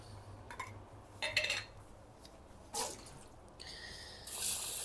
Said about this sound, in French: Donc on rince bien.